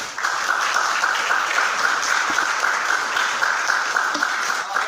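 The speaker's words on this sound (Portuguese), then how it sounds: "Vamos aplaudir essa palavra." A church congregation applauds after a reading of scripture, a continuous, even roar of many hands clapping, fairly loud and close, with no speech over it.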